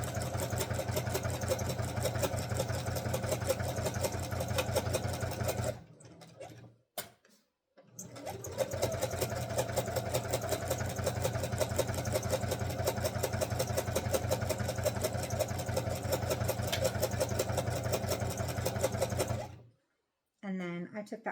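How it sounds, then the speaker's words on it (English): A sewing machine runs steadily while stitching jelly roll patchwork squares together, a continuous close mechanical whir that stops briefly twice and then resumes. "And then just go forward and sew these together."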